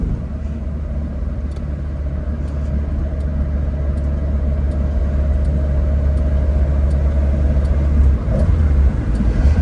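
A 1972 Ford Escort Mexico drives along with a steady, loud low engine drone and road rumble, constant throughout with a brief shift near the end and no talking.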